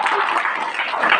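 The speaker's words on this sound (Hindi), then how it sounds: "एक बार जोरदार तालियों के साथ" Audience applause in a school hall welcoming a guest speaker for a spiritual talk, a steady wash of many hands clapping together across the whole short moment, fairly loud with no voices over it.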